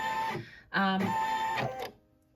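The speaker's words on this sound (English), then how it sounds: "it takes a lot of time when it's just doing all those starting and stopping stitches" A Brother embroidery machine stitching in short bursts, a close mechanical whirring and buzzing that starts and stops, falling quiet at the end.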